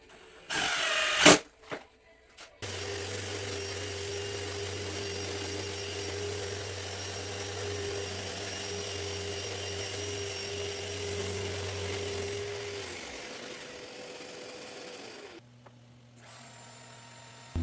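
A router fitted with a corner radius jig shapes the corners of jointed, dimensioned 2x4 bench tops for a farmhouse table bench, running as a loud, steady whine for about ten seconds after short bursts of handling noise, then winding down.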